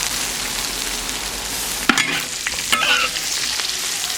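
Small dried fish stir-fried in a wok with chopped chili, a steady close sizzle with sharp scraping strokes of the spatula near the end, no voices.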